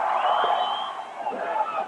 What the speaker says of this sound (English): To cheers from the crowd